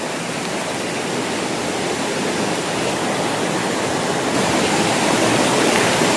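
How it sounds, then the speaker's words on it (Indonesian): An upstream river flows with a loud, steady broadband rush of water over rocks, continuous and close, swelling slightly toward the end with no voices. "ya ini sungai hulu kayak gini"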